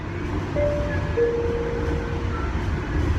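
Low rumble of a moving train from inside a carriage, with thin whining tones rising and fading over the steady noise.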